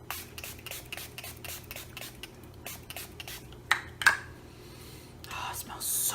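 Milani Fruit Fetish Make It Last setting spray in Mango Coconut scent, pumped close up in a quick run of short hissing bursts followed by a few soft clicks and rustles.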